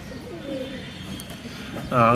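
Low, soft coos of Giribaz pigeons rise and fall near the start, followed by a louder burst of cooing at the end over a quiet background hum.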